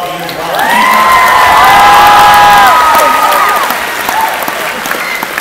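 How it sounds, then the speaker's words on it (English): A dance event audience at Ken-Ya Dance Norcal 2012 bursts into loud, sustained applause with cheering and whoops, clapping rising quickly and holding steady before tapering slightly, with shouted voices layered over the crowd. "So a big round of applause to all of you as well."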